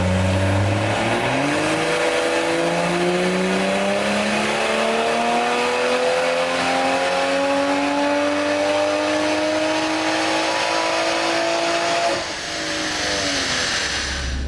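A tuned 2020 MK5 A90 Supra runs on a dyno, its engine loud and close as it pulls steadily up through the revs in one long sweep, then drops back off near the end.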